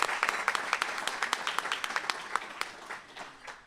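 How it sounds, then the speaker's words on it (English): An audience at a medical residency certificate presentation gives a round of applause, with steady, dense clapping from many hands that tapers off toward the end. "please give her a round of applause."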